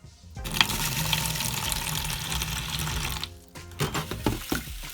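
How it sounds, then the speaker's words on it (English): Water runs from a tap into a container of mung beans for several seconds, a steady close splashing stream that cuts off and is followed by a few knocks and shuffles. "So just fill it with the water"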